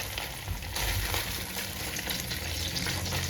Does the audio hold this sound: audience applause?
no